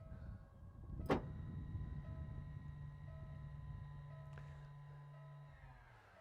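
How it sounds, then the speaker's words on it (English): The deployable tow bar on a 2018 Land Rover Discovery 3.0 TD V6 HSE lowers with a sharp click, then a quiet, steady electric motor whine that runs for several seconds before winding down. "Deployable tow bar."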